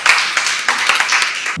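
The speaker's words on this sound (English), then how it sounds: "Let's give him a round of applause." A room of workshop attendees at a consultative dialogue and training session applauds after a lecture, with distinct close claps rising into a brisk round that cuts off abruptly near the end.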